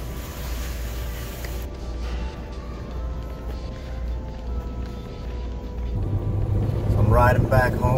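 A compact car driving home, heard from inside the cabin as a steady low engine and road rumble, with someone talking over it and the noise swelling louder toward the end.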